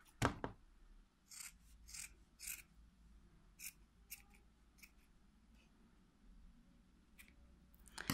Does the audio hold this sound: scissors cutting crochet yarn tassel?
yes